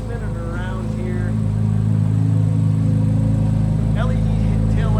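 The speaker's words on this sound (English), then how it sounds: "listen to that exhaust just idle" A 2023 Chevrolet Corvette Z06 3LZ convertible idles with a steady, deep exhaust burble throughout, close by, while someone talks over it.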